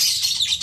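Lovebirds chirp in a bird training room, a dense, continuous stream of high, fast twittering calls that stays fairly loud and steady throughout, with no voices present.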